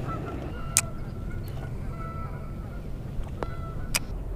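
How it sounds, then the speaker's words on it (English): Geese honk near a fishing flat on open water, with several short, distant calls scattered over steady wind and water noise. "I have a bunch of freaking geese and pelicans"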